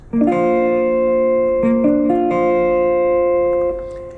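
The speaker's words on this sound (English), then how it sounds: "this one will create your still your 4th chord, add 9" A ringing guitar add9 chord strummed and rolled several times in quick succession, sustaining and then fading at the end.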